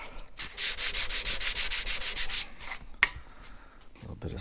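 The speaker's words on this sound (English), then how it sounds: "little bit of sandpaper." Sandpaper rubs over the drilled holes in a walnut dovetail box in a steady run of quick back-and-forth strokes, followed by a sharp knock and a few softer handling sounds.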